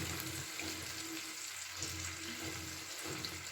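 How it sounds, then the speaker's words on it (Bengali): Water goes into a pan of rohu fish curry on the stove, a steady soft sizzling wash that runs continuously at a low, even level with no speech. "এবার আমি মিক্সির বাটির 1 বাটি এতে জল দিয়ে দিচ্ছি।"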